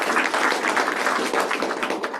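Steady applause from an audience at a school district board meeting, a dense patter of many hands clapping at even strength for a couple of seconds.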